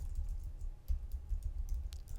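Steady keyboard typing on a computer while entering text into a video editing program, a soft continuous patter of keystrokes with low-end rumble underneath and no talk.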